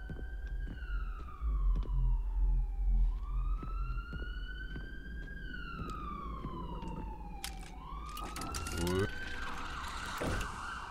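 A loud wailing ambulance siren in a video game rises and falls over a constant rumble, with brief clatter and impact noises near the end.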